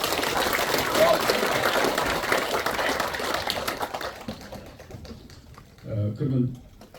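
A crowd at a Korean ceremony for a President Park Chung-hee statue applauds, a busy patter of clapping that gradually thins and fades, followed by someone speaking briefly near the end.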